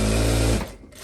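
A sewing machine stitches the crotch seam of a viscose romper in a loud, fast, close whir for about half a second, then stops, leaving faint handling noise.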